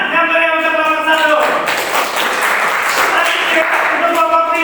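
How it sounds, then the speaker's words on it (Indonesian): A classroom audience claps for group 1 after their presentation. The applause swells over a sustained tone at the start and continues as a busy, close patter, with some voice in the background. "Tepuk tangan yang beri untuk kelompok 1."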